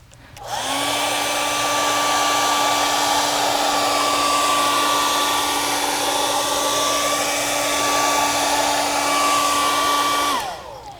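Heat gun warming a tablet touchscreen panel to loosen its glue, a loud steady whirring blow with a constant whine that starts, holds evenly for about ten seconds, then cuts off.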